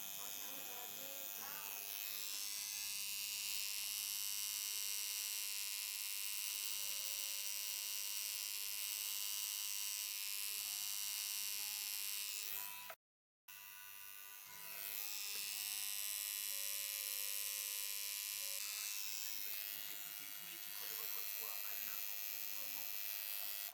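A tattoo machine fitted with a filling needle buzzes steadily throughout at close range, a continuous electric whine with one brief break partway through.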